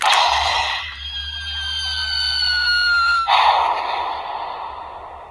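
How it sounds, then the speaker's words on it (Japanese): Kamen Rider Geats DX toy transformation belt playing its buckle pop-out sound effect: a bright electronic burst, then a sustained tonal passage with a falling pitch line, then another loud burst fading out, heard alone over about five seconds. "そうするとバックル飛び出し音が鳴る。"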